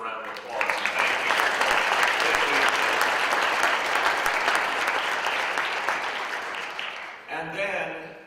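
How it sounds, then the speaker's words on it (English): A crowd at an interfaith breakfast in a New York City public library bursts into sustained, dense applause lasting about seven seconds, steady and loud, then fades as a voice starts speaking near the end. "Let's give him a round of applause."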